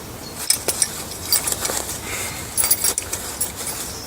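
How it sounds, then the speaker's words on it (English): A set of keys jangles briefly among the contents of a bushcraft survival pack, a few light metallic clinks and rattles at close range with no talking. "Some keys"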